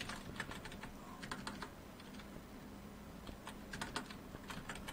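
Computer keyboard being typed on during Microsoft Word document work: quick, light, irregular key clicks in bursts with short pauses, close and fairly quiet, no voice.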